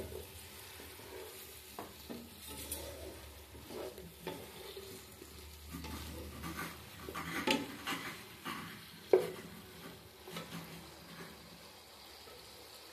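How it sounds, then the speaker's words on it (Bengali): Vegetables for a winter vegetable khichuri being stirred and sautéed in a pan with spices, a soft sizzle under scraping spatula strokes and occasional utensil clinks, close and steady with no talking. "এবার আমি সবজিগুলো দিয়ে দিচ্ছি। সবজিগুলো কষিয়ে একটু ভালো করে কষিয়ে নেব সবজিগুলো।"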